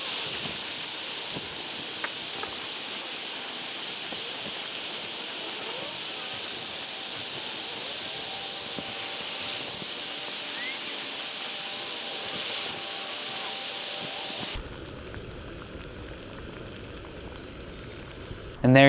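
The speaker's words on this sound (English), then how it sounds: "We're up to a boil in no time." Water heating on a Jetboil Minimo backpacking stove gives a steady roaring hiss that builds into bubbling, continuous for about fifteen seconds before the flame cuts down and it quiets.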